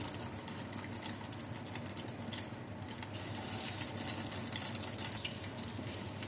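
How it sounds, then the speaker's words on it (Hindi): Egg-dipped chicken shami kebabs fry in a pan with a steady, soft sizzle and crackle, faint and close, running continuously with slight swells and no voices. "अंडे में डिप कर लेते हैं और फ्राई कर लेते हैं"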